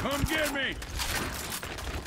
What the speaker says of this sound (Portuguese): Dá um tiro na boca do Magnífico agora